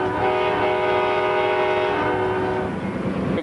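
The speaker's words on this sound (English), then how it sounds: "the head end of a speeding locomotive" A speeding Amtrak Southwest Chief locomotive is heard from inside the cab, a loud steady roar with a long sustained horn blast over the rumble of the rails.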